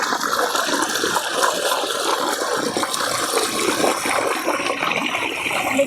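Well water pours out at a farm, a steady, loud rushing gush that continues without a break.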